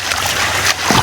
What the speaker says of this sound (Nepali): यो झरना